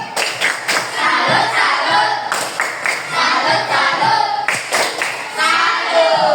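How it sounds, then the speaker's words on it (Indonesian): A classroom of pupils performs a patterned 'tepuk salut' clap for group 4, with bursts of rhythmic claps broken by short pauses and some voices mixed in. "kali ini kita termasuk tepuk salut untuk kelompok 4"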